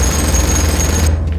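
Chain gun firing in a Space Hulk game, a loud, steady burst of rapid automatic fire that runs continuously and then cuts off abruptly near the end.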